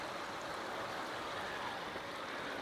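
Water streaming back into the bay of a multibay koi pond filter system, a steady close rushing and gurgling wash that stays even and unbroken throughout, with no voices.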